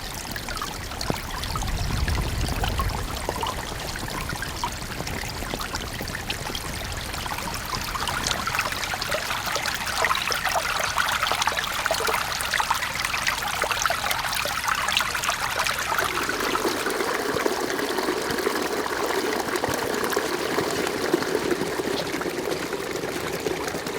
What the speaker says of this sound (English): this is the pipe that I found in the middle of the yard, and all this water comes from up there